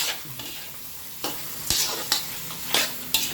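Mushrooms and long beans stir-fried in a pan: a loud, close sizzle with repeated sharp spatula scrapes and tosses at an irregular rhythm, no voices.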